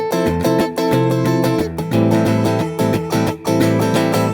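An acoustic guitar is strummed stiffly and tightly with a locked, unmoving wrist. The chords come in choppy, rigid bursts with short gaps between groups, loud and close.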